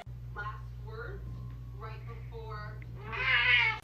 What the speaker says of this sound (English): Now this is a meow. Turkish Angora cat.